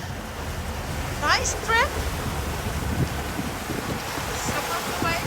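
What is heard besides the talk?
ocean waves and wind while sailing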